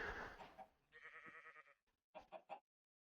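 An iron chicken in StoneBlock 4 gives a few quiet, short clucks and bleating-like calls, including a quick burst of three at the end.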